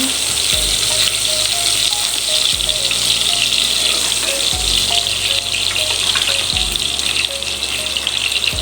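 Garlic sizzles loudly and steadily in hot oil while being stirred until brown, with a utensil scraping the pan at regular intervals through the continuous frying hiss.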